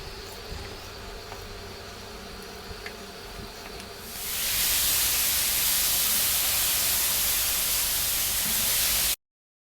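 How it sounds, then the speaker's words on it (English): Chicken wings dropped into a hot pan erupt into a loud, dense, steady sizzle of frying oil that jumps up sharply after a quieter stretch and holds until it cuts off abruptly. "we're going to pop these in and then we're going to fry them around for around 6 minutes"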